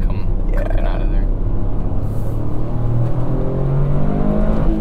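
Engine of a 2023 Toyota GR Corolla Core revving steadily with rising and falling pitch as it rev-matches through shifts, droning close and continuous beneath people talking inside the car.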